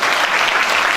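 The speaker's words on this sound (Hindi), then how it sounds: "तालियां बजा दीजिएगा।" A congregation at a Christmas church service breaks into loud, dense applause, a continuous wash of clapping with no gaps.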